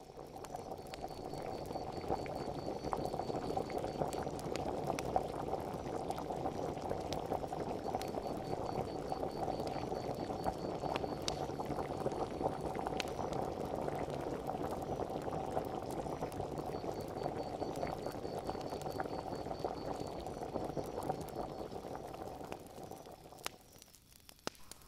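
Water boils in a continuous, dense bubbling and gurgling, close and even for over twenty seconds before tapering off near the end, with no talking.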